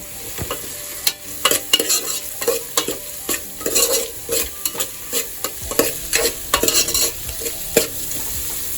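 Onion, tomato and green chili are stirred and fried in a pan for chicken pulao, a constant sizzle broken by repeated scraping strokes of a spoon, close and fairly loud, with no talking.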